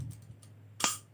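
A seal clip on a Kawasaki KLX BF upside-down motorcycle front fork snaps into place with a single short, sharp click in an otherwise quiet workshop.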